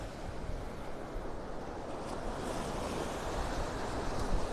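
Steady surf washing onto a beach in North Naples, Florida on a calm morning, a continuous soft roar of breaking waves with light wind, no voices.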